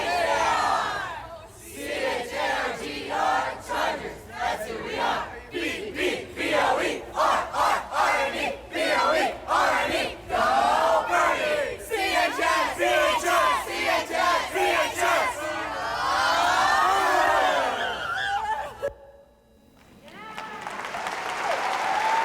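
Recorded sound of school swim teams cheering together: a loud crowd of young voices chanting and shouting in rhythmic bursts, with applause, a brief drop near the end and then a renewed roar.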